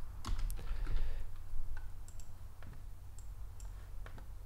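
Keys on a computer keyboard clatter in quick uneven bursts and then slow to sparse single taps. The typing is close and fairly quiet over a low background hum.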